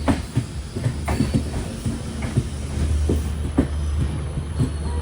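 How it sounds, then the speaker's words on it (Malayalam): The Konkan Kanya Express rolls into Vaibhavwadi Road station with a steady loud rumble, rhythmic wheel clacks over rail joints and a low engine drone throughout. "ട്രെയിൻ ഇതാ വൈഭവാടി റോഡ് സ്റ്റേഷനിലേക്ക് എത്തുകയാണ്"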